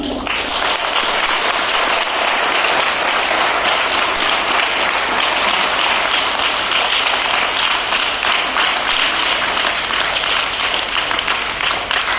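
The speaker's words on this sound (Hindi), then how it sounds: "इसलिए एक बार जोरदार ताली" Loud, sustained applause from an audience at a church welcome ceremony for a new parish priest, dense clapping that runs steadily without pause and with no speech over it.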